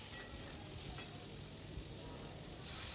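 Kochu shak with prawns sizzles and crackles in a hot pan while being stirred, a steady close frying hiss with soft scraping, no voices.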